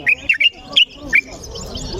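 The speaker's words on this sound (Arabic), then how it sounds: "حنا مع طائر البلبل." A bulbul at a songbird market gives a handful of short, bright chirps in an irregular rhythm, close and clear over a low background murmur.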